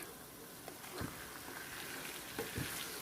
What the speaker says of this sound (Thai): จากนั้น เราก็จะเอาขาหมูลงไปค่ะ ผัดให้เขาหอมนะคะ